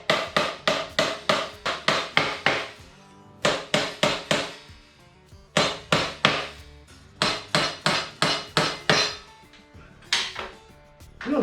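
Hammering a nail into wood while building a basic birdhouse: close, loud, sharp blows in quick bursts of four to seven strikes, separated by short pauses, with a faint rattle between strikes.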